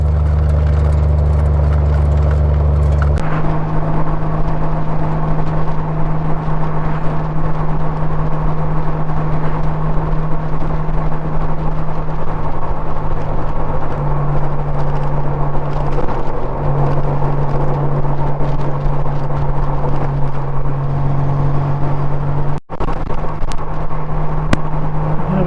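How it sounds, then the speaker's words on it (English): A car drives along a gravel road near Northwood with a steady, loud engine drone and road rumble from inside the cabin. A constant rattling texture sits underneath, and the engine note shifts slightly partway through. "I can hear the gravel playing a tune under my front fender"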